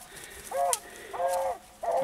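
Beagles barking while out on a rabbit hunt, three short bark bursts spaced across the moment, heard at a moderate distance over open outdoor quiet.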